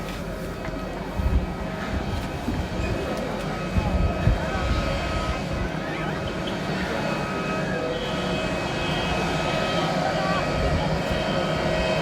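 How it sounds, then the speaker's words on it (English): A jet airliner rumbles steadily at a distance, heard from an open observation deck at a Tokyo airport, the broad engine roar holding at a constant level with a few nearby bumps and a voice talking briefly. "That's the flight I'm getting on."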